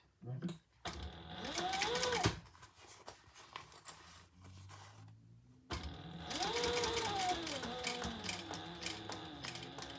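A sewing machine top-stitches a crossbody bag in two close, loud runs of rapid mechanical stitching, each a couple of seconds or longer, with a quiet pause and soft handling noises between them.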